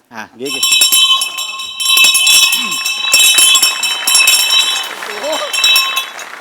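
A theatre stage bell rings continuously and loudly for several seconds before an announcement at a Marathi comedy show, with people talking and calling out over it.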